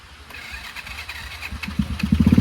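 A motorcycle engine starts up on a mountain outing at Mainpat, Chhattisgarh, rising from a quiet hum into a louder, pulsing low-pitched idle that grows stronger over the last second.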